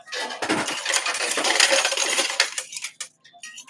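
Coins spill in a loud metallic clatter inside a coin pusher machine, a dense cascade lasting about three seconds before thinning into a few scattered clinks, with no talking.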